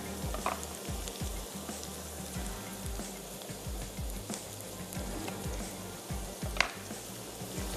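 Chopped onions frying in a pan while being stirred with a spoon, with a steady close sizzle and repeated scraping stirs through the whole stretch.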